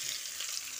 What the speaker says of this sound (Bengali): এবার নুন হলুদ মাখানো আলুটা একটু ভেজে নিচ্ছি